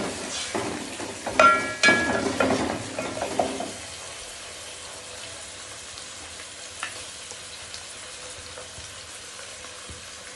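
Chicken frying for biryani, sizzling loudly in a pan with onions, with stirring scrapes and clatter over the first few seconds, then settling into a steady, softer hiss for the rest.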